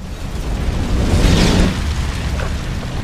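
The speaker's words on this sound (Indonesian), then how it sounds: "mobil tersebut langsung meledak dan membunuh si alien." A car explodes in a film after a flare is put in its fuel tank, a loud, rumbling blast that swells to a peak and then rolls off into a sustained low roar.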